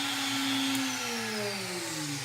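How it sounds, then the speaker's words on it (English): The spindle of an X-Carve CNC machine runs as a loud, continuous close-range whine whose pitch slides steadily downward over about two seconds, with broadband motor hiss and no talking. "the spindle will click on and you'll hear it"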